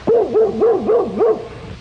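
Dogs on a TV show howl and bark in a rising and falling singing pattern, about five loud, close, wavering cries in a row, then fading.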